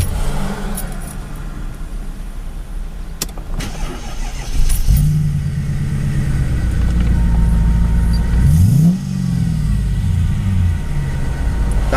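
A Mercedes-Benz E55 AMG W210 engine with a Kleemann supercharger idles roughly and unevenly from a misfire, its low drone stumbling and surging before revving briefly near the end.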